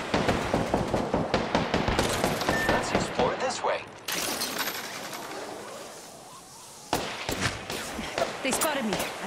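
Rapid bursts of gunfire in the battle royale game Apex Legends, sharp repeated shots in clusters with a brief lull midway, loud and close, with some game voice lines over it.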